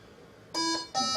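A battery-powered device sounds two short, loud electronic alarm beeps in quick succession in a quiet room.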